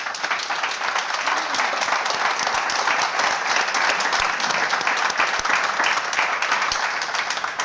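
Audience applause at a political summit in Madrid, a dense, steady wash of many hands clapping that stays loud and even throughout.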